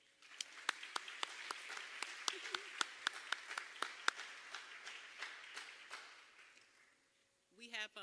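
Applause at an arts education awards ceremony, fairly quiet and thin, with distinct individual claps standing out from a small clapping crowd for several seconds before it fades and a voice begins speaking.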